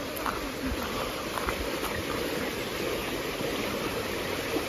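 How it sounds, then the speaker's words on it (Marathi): Water seeping down from the hills runs as a small stream in the Konkan countryside, a steady soft rushing wash with faint patter and no voices. "इथे तुम्हाला पाण्याचा आवाज येत असेल किती, जस्ट एकदा फक्त कान लक्ष देऊन ऐका."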